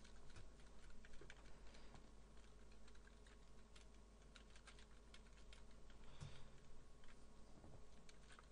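Steady computer keyboard typing while writing code, a continuous patter of key clicks at moderate level with no speech, running throughout.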